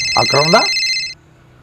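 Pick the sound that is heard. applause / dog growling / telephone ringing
telephone ringing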